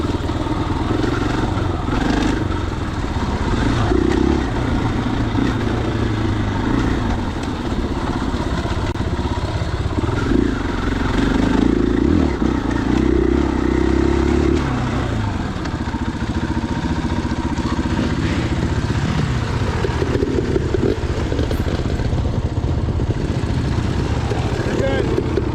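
Steady drone of a 2021 KTM 500EXCF dual-sport motorcycle ridden mellow along the Cabin trail at Johns Peak OHV, engine close with rumbling and clattering over rough ground, a voice occasionally over the engine noise.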